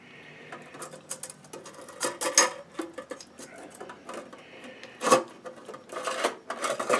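Parts loosened in an ultrasonic cleaner are scrubbed with a brush, making irregular bursts of close scratchy bristle strokes and faint clinking, with no speech.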